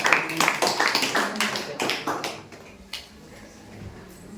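An audience at a Ramayana quiz claps in a brisk, uneven burst for about two and a half seconds, then the sound drops away to quiet room noise.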